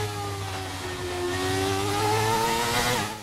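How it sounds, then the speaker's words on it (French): Formula One car in F1 2019 spinning its wheels in first gear, the engine whining and climbing in pitch as the revs rise over a steady drone. "Je repasse même en première, ça patine"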